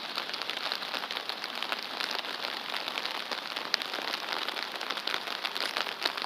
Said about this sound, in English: Just another rainy Seoul Saturday.